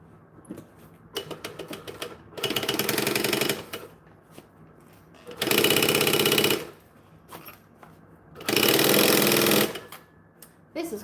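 A sewing machine stitches a French seam on a fabric bag in three loud, sustained bursts separated by quieter pauses with small handling sounds.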